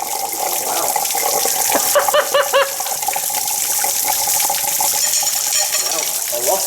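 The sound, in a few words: water draining out of a Dennis Dart bus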